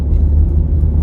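A car with high-mileage transmission fluid accelerates in second gear, a brief, loud, low engine rumble with a whirring drone, heard close from the cabin and uninterrupted.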